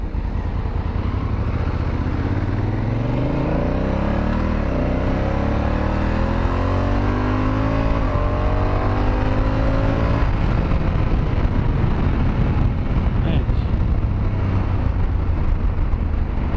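A Honda Africa Twin motorcycle rides at speed, then brakes hard from about 120 km/h. A loud, steady engine and wind roar falls in pitch as the bike slows, with no talk.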